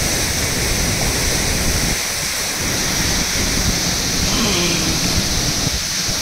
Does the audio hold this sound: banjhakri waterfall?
yes